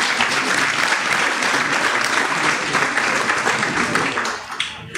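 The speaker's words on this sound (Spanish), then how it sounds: "Recibámoslas con un fuerte aplauso." A large audience at a national cooperatives forum claps loudly in a thick, continuous wash, holding strong before thinning out and fading in the last moments.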